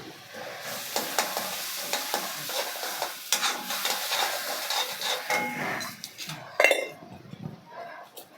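Onion and tomato sautéing in a pan with salt, pepper and cumin, a continuous close sizzle with steady stirring scrapes and occasional metallic clinks of a spoon against the pan.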